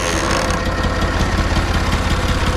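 A tractor engine idles in second gear while creeping slowly across a spring field, giving a loud, steady, close chugging rumble with an even pulsing beat throughout.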